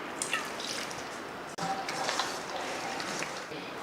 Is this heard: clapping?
no